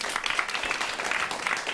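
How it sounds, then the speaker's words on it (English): A crowd applauds steadily at a climate resilience and agriculture event, with dense, continuous clapping that fills the whole moment. "Give them a round of applause."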